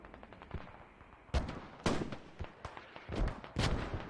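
Mortar fire in a video game battle, a series of sharp booming impacts and bursts at irregular intervals, some near and loud, others fainter, over a low background.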